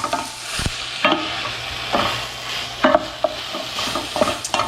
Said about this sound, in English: So we're going to get this all stirred in.